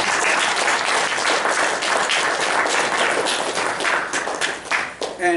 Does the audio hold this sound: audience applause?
yes